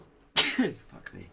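A single sharp sneeze bursts out at close range, followed by a brief muttered remark, during a tabletop Dungeons & Dragons game session.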